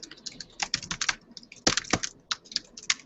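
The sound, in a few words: typing on a computer keyboard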